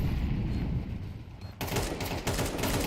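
AK rifle gunfire in the video game Counter-Strike during a professional match, a low rumble followed by a sudden burst of rapid shots in the second half.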